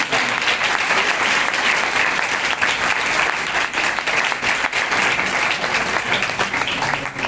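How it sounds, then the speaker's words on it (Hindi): Loud, dense applause fills a church during an Urdu/Hindi worship service, a continuous roar of many hands clapping at steady volume for the whole stretch. "आइए फिर यीशु मसीह के लिए जोरदार तालियां बजाएं।"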